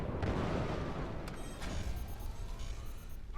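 Mortars firing in the Forts RTS video game, heavy booming blasts layered over a rumbling battle din with faint tonal sweeps.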